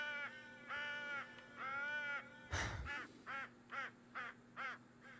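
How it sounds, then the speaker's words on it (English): Crow calls in the hunting video game Call of the Wild: a series of harsh, rasping caws, first a few longer drawn-out calls, then five or six shorter ones in a steady rhythm, clear and fairly close over a faint hum. "tell them to fix that crow call"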